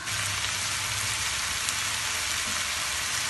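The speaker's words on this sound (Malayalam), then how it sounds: "ഇത് നമുക്ക് നന്നായി വഴറ്റി കൊടുക്കാം" Tomatoes for a Kerala-style tomato chutney sauté in a hot pan, giving a steady, dense sizzle that runs on without a break and sounds fairly close.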